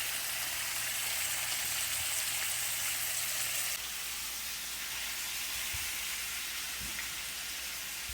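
Chicken fries in butter in a hot pan, giving a steady dense sizzle and hiss that holds loud and even throughout, with a few faint clunks of the pan underneath and no talk.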